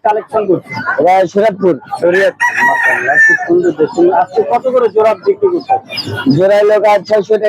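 Chickens cluck and crow at a village poultry and duck market, mostly beneath close, continuous talking.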